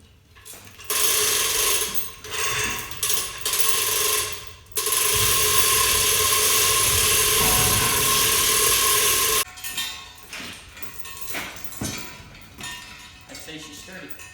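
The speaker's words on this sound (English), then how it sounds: "We got our gambrel hooked to a winch, and we're going to pick it up and see if the welds break." A winch lifting a 60-pound I-beam hung from a welded steel gambrel, with a steady mechanical ratcheting whir running for several seconds between clanks and rattles of metal, loud and close, with a voice briefly heard.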